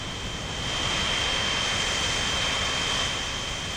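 In the video game Transport Fever, a steady, loud jet-like airplane engine drone with a faint high whine holds constant as if passing low overhead.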